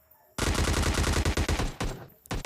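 Rapid bursts of automatic gunfire in PUBG Mobile finish off a knocked player, loud and close in a fast rattling stream, with a short pause before a final few shots.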